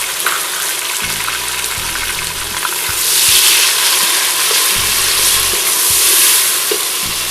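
About three large tomatoes and two green chilies hit browned garlic and masala in a hot pan, giving a loud, steady close sizzle that swells after a few seconds, with occasional stirring knocks.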